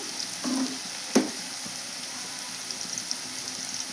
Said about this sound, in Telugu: పది నిమిషాలు అయితే పడుతుందండి బాగా ఫ్రై కావాలండి